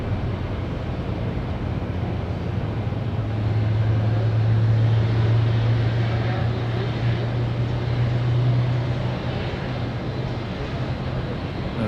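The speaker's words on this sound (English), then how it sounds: "A great little flyover at the airport." A low, steady drone of a plane making a low flyover at Auckland Airport, New Zealand, swelling slightly toward the middle and then holding as it passes, with no talking.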